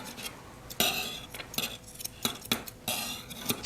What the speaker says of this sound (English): She's not used to that scissor noise touching the table either.